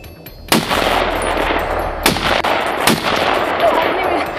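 Rifle shots ring out during a bull moose hunt in northern New Hampshire, three sharp loud reports at irregular intervals with outdoor echo between them.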